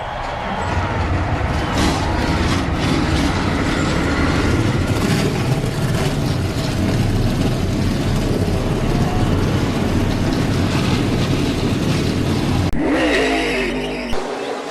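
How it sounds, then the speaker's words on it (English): Stock car engines at a NASCAR All-Star event at Charlotte Motor Speedway, a dense continuous loud roar of many motors running together, cutting off abruptly near the end. "Drivers, start your engines!"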